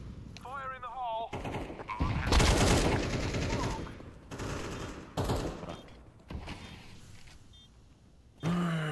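Gunfire in the game CS2 cracks out in several sharp, loud bursts spaced irregularly across the stretch, with players talking in between and over the shots.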